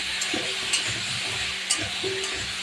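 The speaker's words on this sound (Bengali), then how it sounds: "এবারে আলুটাকে নেড়ে চেড়ে" Potatoes with turmeric and salt stirred in a hot pan, a constant close sizzle broken by repeated spatula scrapes and light clicks against the metal at an uneven rhythm.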